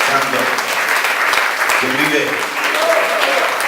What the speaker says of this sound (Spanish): Dar ese fuerte aplauso al Rey de Reyes